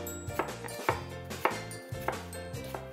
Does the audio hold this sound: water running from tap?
no